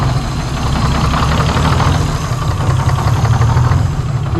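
A Detroit Diesel 6-71 engine idles with a loud, close, steady low rumble and rapid knocking pulse, continuous throughout with no voices.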